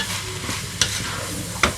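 A spoon stirs tomato paste in a hot pan for chakchouka, with a steady sizzle and a couple of sharp scraping taps against the pan, close and fairly loud.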